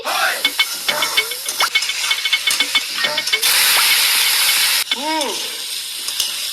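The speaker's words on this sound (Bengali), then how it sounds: "দেখিস না আলু ভাজা করতেছি" Oil sizzles and hisses steadily as potatoes fry in a pan, with scraping stirs and clinks of a utensil, and a louder burst of sizzling partway through.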